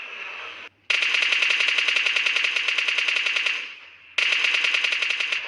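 Sustained bursts of rapid automatic gunfire in a battle royale video game match, loud and rhythmic, one long burst followed by a pause and then another burst, with no talk over it.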